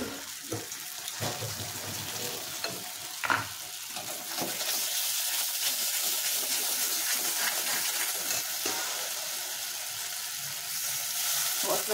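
Masala with a spoonful of ginger paste frying in a pan for chicken tikka masala, a continuous close sizzle broken by scraping stir strokes and a few sharp spits, with no talk.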